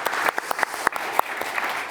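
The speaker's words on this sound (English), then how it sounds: "We can give them a round of applause." An audience at a policy event on nature restoration applauds its speakers with steady, dense clapping throughout, with a few sharper claps standing out near the front.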